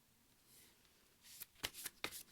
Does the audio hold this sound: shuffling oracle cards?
yes